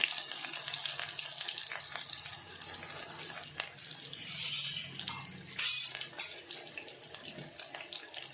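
Chopped onion sizzles in hot oil with mustard seeds in a cooking pot, a steady close frying hiss with brief crackling bursts throughout.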